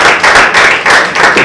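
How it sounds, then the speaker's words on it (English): Loud, close clapping at a Toastmasters club opening address, a handful of hands beating in a quick, slightly uneven rhythm over a short burst. "Please give me a big round of applause"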